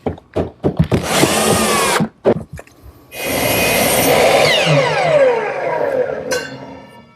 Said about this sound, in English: attach it with some more screws